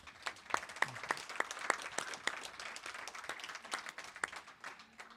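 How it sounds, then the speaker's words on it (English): Scattered applause from an audience at a table tennis health congress, a moderate run of claps spread through the room with no voice over it. "so I think you can applaud him again"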